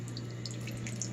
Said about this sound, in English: We'll try pouring a little bit of this water in here and see if this flash freezes on top of this.